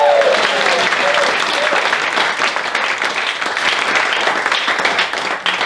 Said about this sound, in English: Cheering because Laura could put up with me that long.